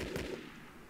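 Sniper fire in the video game Shadow Harvest: a single loud gunshot with a sharp crack and a short decaying tail.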